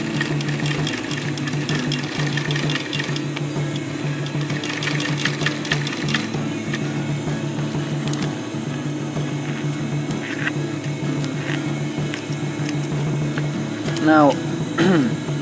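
A sewing machine stitches a canvas zipper pouch with a steady mechanical hum, running continuously up close while faint clicks and a brief rising squeak come near the end.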